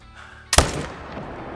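A single loud rifle shot is fired while hunting. The sharp crack rings out close, then a short echo decays over the next second against a quiet outdoor background.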